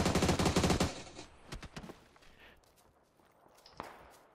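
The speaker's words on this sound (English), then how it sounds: "We have shots coming in open from the west." A burst of rapid automatic gunfire in a video game opens loud and close. Scattered footsteps and a few single shots follow more faintly.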